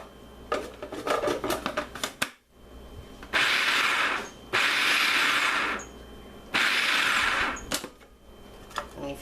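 A food processor pulses dill pickle relish ingredients in three loud, steady bursts of whirring motor noise, each lasting a second or so with pauses between, preceded by clattering and scraping in the bowl.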